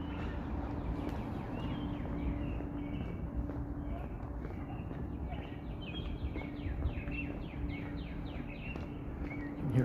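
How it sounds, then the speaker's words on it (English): Faint birds chirping in the distance over a low rumble of city background noise near Ramsden Park, Toronto. "Hear all the birdies chirping."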